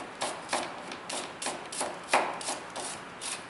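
A knife slices through an onion in a series of about ten crisp, evenly paced cuts, each a short soft crunch, close up and fairly quiet with no talking.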